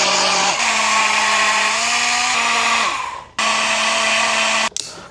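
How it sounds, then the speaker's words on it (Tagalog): A portable blender whirs steadily while blending a smoothie, a loud continuous motor drone whose pitch shifts slightly, cutting out briefly near the end before restarting for a moment. "Let's blend this bad boy."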